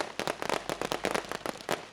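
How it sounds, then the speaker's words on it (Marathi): Fireworks and firecrackers burst at a cricket league final in Alibag, a dense run of sharp, loud cracks and pops in quick irregular succession over a constant noisy background. "फटाक्यांच्या आतिषबाजीमध्ये आपण ही स्पर्धा पाहत आहोत."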